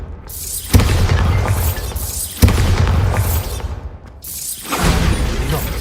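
Bombarda spell blasts in Hogwarts Legacy: three loud, close booms with sudden onsets, each followed by a long rumbling, crackling tail that fades before the next hit.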